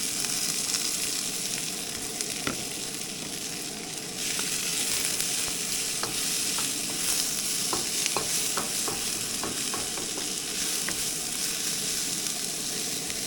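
Peas, carrots and onions sizzle steadily in hot peanut oil, a constant close frying hiss broken by scattered scrapes and clicks of stirring, with no one talking.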